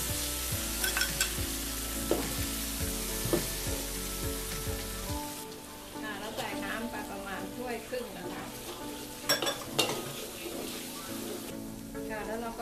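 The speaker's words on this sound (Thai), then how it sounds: "พอพริกแกงหอมดีแล้วเราก็ใส่น้ำลงไปนะคะ" Thai curry paste sizzles loudly in a hot pan with stirring scrapes, then water goes in and the frying drops to a softer bubbling simmer with occasional clinks of a utensil.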